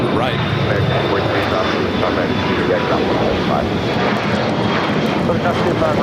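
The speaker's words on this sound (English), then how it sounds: "So Aeromexico 787-9 Dreamliner heading back to Mexico City" Aeromexico Boeing 787-9 Dreamliner jet taxiing at LAX, a loud steady engine roar with a thin high whine running throughout, close by, with a voice talking over it.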